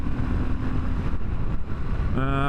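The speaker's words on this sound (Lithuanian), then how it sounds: "vis tik tai nedidelis vieno cilindro varikliukas" A CFMOTO 250 Dual motorcycle's small single-cylinder engine runs while riding at about 60 km/h in fifth gear, a steady throbbing drone heavily mixed with wind rush, ending in a brief higher tonal whine.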